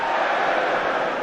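Split arena crowd at an IEM Sydney 2023 Counter-Strike 2 semi-final between G2 and Complexity, a steady wash of mixed cheers and shouts filling the hall at close, loud level for a second or so.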